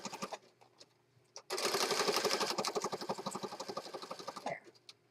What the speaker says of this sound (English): I'm just going to line this up at the bottom here and sew that lace over the top of the fabric